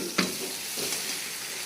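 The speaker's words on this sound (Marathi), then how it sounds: "आणि कांद्याची भाजी तिला छान परतून घ्यायचं" Onion bhaji with garlic, chilli and soaked moong dal sautéing in oil in a kadhai, a continuous close sizzle with one sharp stir scrape near the start and a softer one later.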